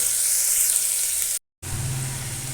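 Onion, ginger and garlic sizzle steadily in hot oil in a pan, a loud close frying hiss that cuts out briefly and then resumes.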